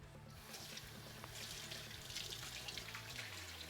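Tap water runs steadily into a kitchen sink while split leeks are rinsed under it, a continuous close splashing hiss with faint low hum beneath.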